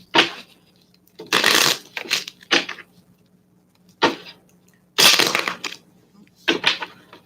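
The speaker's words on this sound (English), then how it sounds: "Let's pull some cards." Tarot cards are shuffled and drawn in several short, crisp riffling bursts separated by quiet pauses, close and clear with no one speaking.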